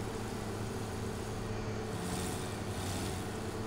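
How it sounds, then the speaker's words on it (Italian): An articulated tractor engine in Farming Simulator 17 drones with a steady, dense, loud rumble that holds constant without pause. "si fa sentire che è un trattore,"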